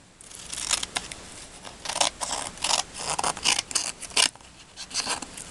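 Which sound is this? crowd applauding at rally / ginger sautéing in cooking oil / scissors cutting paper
scissors cutting paper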